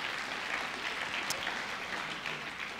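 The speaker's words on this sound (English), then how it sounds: "Can we give God a hand clap of praise this morning?" Church congregation clapping in praise during a morning service, a soft, fairly distant wash of many hands, steady for a few seconds.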